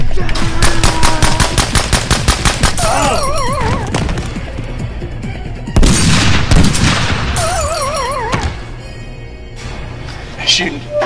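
Gunfire from a boot camp movie scene: loud rapid bursts of automatic fire mixed with booms and crashes, with shouting voices and music layered over the shooting.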